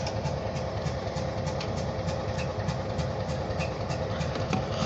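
A short OC&T freight train heads southbound through the freight yard in Titus, giving a steady, continuous rumble and rolling noise at moderate distance with faint rhythmic clicks of the wheels.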